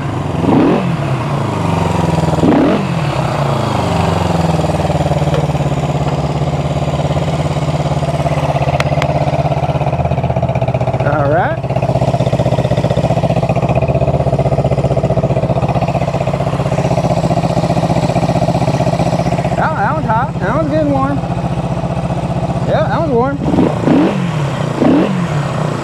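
Engine idling close by for nearly half a minute with a steady, loud, low rumble, interrupted by several short throttle blips that rise and fall in pitch.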